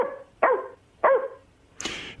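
A dog barks three or four times in separate short yelps, spaced about half a second apart, close and clear with quiet between them.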